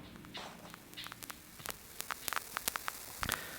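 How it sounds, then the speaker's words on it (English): Vinyl distortion effect generated in Ableton Live 11, a steady crackly static bed with a low hum, peppered with sharp pops and clicks that grow denser toward the end. "So here's vinyl distortion."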